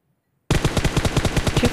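Rapid automatic gunfire from the mobile game PUBG Mobile, a steady burst of evenly spaced shots starting suddenly after a moment of silence.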